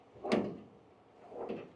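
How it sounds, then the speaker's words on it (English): Drawers of a six-drawer rolling metal tool chest slide open twice in a row, each a smooth, soft-close rolling whoosh, close by and with no talking. "If you open the top, it unlocks these drawers,"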